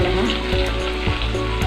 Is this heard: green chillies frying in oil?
yes